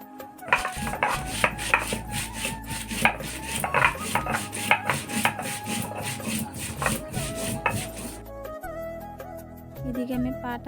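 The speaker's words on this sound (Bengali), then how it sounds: "এদিকে আমি পাটাতে লাল মরিচ বেটে নিচ্ছি, তো মরিচটা আমি বাটছি।" Red chillies are ground on a stone slab, a sil-pata, with a rhythmic run of rubbing, scraping strokes, close and fairly loud; a voice speaks near the end.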